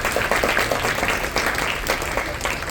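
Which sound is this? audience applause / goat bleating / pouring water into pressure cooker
audience applause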